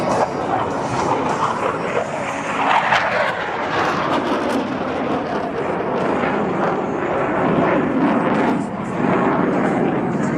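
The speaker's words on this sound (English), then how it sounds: "bringing their aircraft back over show center." At the 2022 New Orleans airshow, an aircraft returns over show center with a loud, continuous broadband roar that swells and dips, while a dog yaps faintly in the background.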